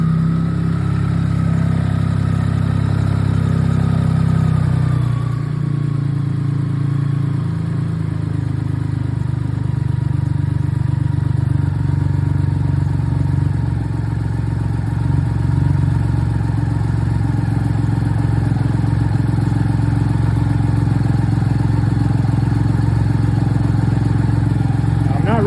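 A BMW K75 motorcycle engine idles during throttle synchronization and idle adjustment, a steady close mid-pitched drone that drifts in speed on its own, with a brief dip partway through.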